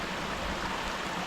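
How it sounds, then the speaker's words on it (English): A small mountain brook flows steadily below a trail, a soft, even wash of rushing water mixed with wind, faint and continuous with no voices. "there is a nice little brook down there. You can probably hear it over the wind"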